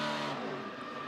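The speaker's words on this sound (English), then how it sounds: "You can hear the old engine." A NASCAR Cup race car running with a cylinder down gives a loud, rough, raspy engine roar with a skidding, tire-squeal edge. The sound is brief and fades slightly.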